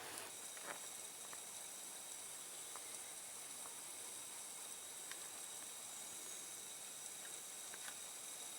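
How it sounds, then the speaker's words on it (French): Green chili purée simmers in a covered pot on an electric hotplate, making a faint, continuous steamy hiss with a few soft ticks and pops scattered through it. "là, notre piment est en train de frémir"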